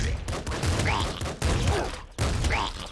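A double slugger weapon fires in the roguelike game Nuclear Throne: three heavy, booming blasts about a second apart, loud and close, with game effects around them.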